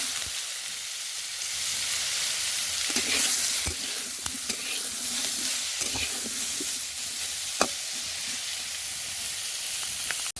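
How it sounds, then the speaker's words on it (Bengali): Pieces of young jackfruit fry in hot oil with a continuous dense sizzle, occasional clicks and stirring taps, close and steady throughout, with no speech. "ভাজার পর সেই তেলের মধ্যে দিয়ে দেবো এঁচোড়।"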